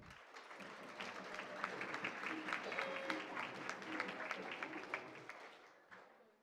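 An audience at a regional school oratory competition medal ceremony claps for a presenting official, a full crowd applause swelling in, sustained with scattered sharper claps, then tapering off at the end, with some talk mixed in.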